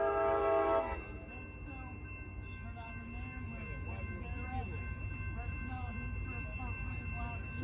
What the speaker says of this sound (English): Train number 714 now arriving.